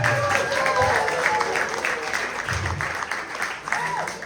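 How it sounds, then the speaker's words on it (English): Comedy club audience applause between stand-up sets, a sustained wash of clapping and crowd noise, fairly loud and steady, with some voices mixed in underneath. "keep that applause going for Dorian Gayle"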